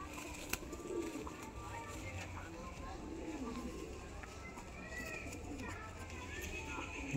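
Pigeons coo repeatedly in a low, rolling rhythm amid a busy background, with people talking over and around the birds throughout.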